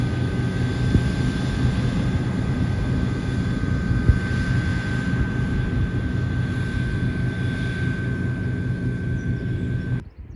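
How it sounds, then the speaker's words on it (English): A steady, loud roar of a jet aircraft overhead with a sustained high whine, continuing unbroken for about ten seconds before dropping off abruptly. "Sounds like a jet, doesn't it?"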